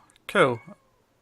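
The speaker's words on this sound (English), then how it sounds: "I need to let that cat in because he's being obnoxiously loud and it's really distracting" A single loud, drawn-out meow from a house cat wanting to be let in, close to the microphone and alone, with a short chirp at its end.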